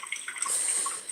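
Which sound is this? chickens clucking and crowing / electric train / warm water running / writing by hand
warm water running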